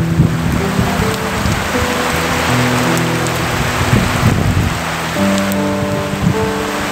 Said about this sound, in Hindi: देख सकते हैं ये धुआंधार बारिश हो रहा है